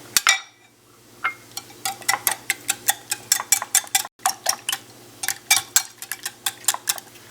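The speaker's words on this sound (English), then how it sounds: "I'm also going to whisk that together" A whisk rapidly clicks and taps against a bowl while milk is beaten into a breakfast mixture, with close, sharp, irregular bursts of strokes and a brief pause midway, and no talking.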